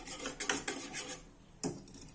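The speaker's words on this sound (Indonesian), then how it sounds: "Kemudian kita aduk lagi" Moss layer pudding mixture stirred in a pan: a few quick scraping, rasping strokes of a utensil against the pan, close and fairly quiet, then a pause and one more scrape.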